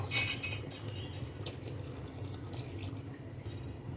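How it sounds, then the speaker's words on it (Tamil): Tamarind water pours into a dry fish curry as it boils, a soft continuous splashing and trickle with a few brighter drips, fairly quiet and close. "இப்போ நம்ம புளி ஊற்றிக்குவோம்"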